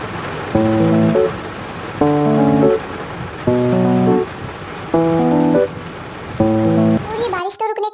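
Heavy rain gives a steady, dense hiss throughout, with a short tonal jingle repeating over it about every second and a half.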